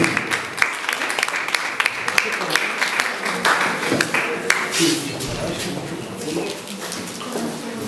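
Applause from an audience of pupils and guests at a village Independence Day centenary celebration in Mierzeszyn, Poland, following a students' singing performance; scattered, fairly close clapping that thins out over the seconds, with voices chatting underneath.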